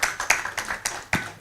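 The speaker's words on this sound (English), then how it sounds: "So, round of applause for Grace." A brief burst of distinct hand claps from a research symposium audience welcoming a panelist, crisp and close with an uneven rhythm.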